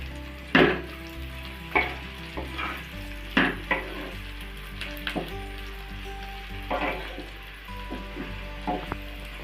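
Vegetable fried rice being mixed and stir-fried in a pan, with a steady sizzle under repeated scraping, tossing strokes of a spatula at irregular intervals, close and moderately loud.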